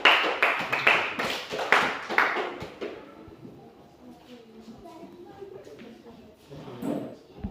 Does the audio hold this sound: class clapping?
yes